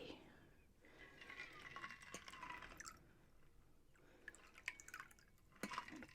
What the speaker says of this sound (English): Pour a little bit of that in there and top it up with some soda water.